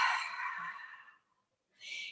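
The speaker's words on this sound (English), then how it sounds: "And exhale gently for a count of 4." Slow, deep exhale during yoga breathing, a close breathy rush that fades out over about a second, followed by silence and then the start of another soft breath.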